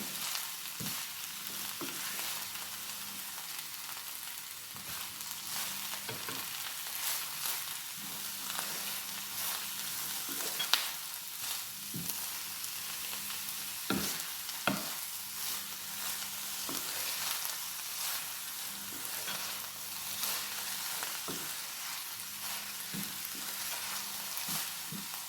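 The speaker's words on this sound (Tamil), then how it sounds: "கோவாவும் போட்டு நல்லபடியாக வதக்கி கொள்வோம்." Cabbage sautéing in a pan, with a steady close sizzle and repeated stirring scrapes at intervals throughout.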